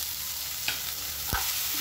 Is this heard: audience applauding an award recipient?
no